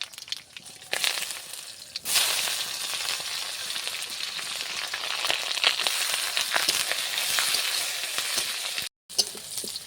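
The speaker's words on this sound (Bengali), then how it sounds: "এই তেল দিচ্ছি, শুকনো লঙ্কা, তেজপাতা," Dried red chilies and bay leaves frying in hot oil as a tempering for dal, a loud continuous sizzle with sharp crackles and pops and a brief dropout near the end.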